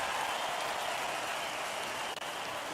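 Cheering and applause from a crowd in the Lego Party video game, a dense, steady wash of clapping and crowd noise that runs loud throughout with no talk over it.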